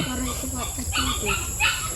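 A dog barks and yips repeatedly at close range, mixed with people talking over a steady background noise.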